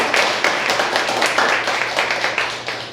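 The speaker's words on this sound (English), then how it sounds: "I want to give everybody a round of applause" Applause at a parliament meeting: a dense burst of many hands clapping together, loud and continuous for a few seconds with a slightly uneven rhythm.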